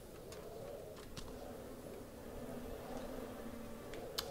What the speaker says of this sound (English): Crows! Bye, crows.